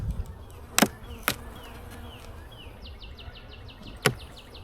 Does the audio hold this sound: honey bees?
yes